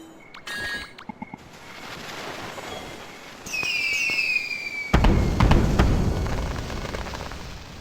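Video game firework staff launching rocket fireworks: a whistling rocket climbs with a falling tone, then a loud burst bursts into a crackling, glittery roar that lingers for several seconds.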